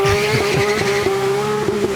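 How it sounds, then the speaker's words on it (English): A Porsche GT3 RS race car fitted with a Manthey kit runs at the Festival of Speed, its engine holding a loud, sustained high-pitched note close by with brief gear-change dips and no talk over it. "That is the sound of the Porsche GT3 RS with"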